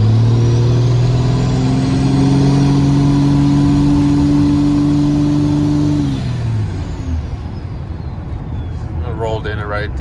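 Compound-turbo 12v Cummins shorty truck with S480 and HE351 turbos pulling hard at about half throttle, a loud rising diesel drone with turbo whistle that drops off after several seconds into road noise, heard from the cab alongside talking.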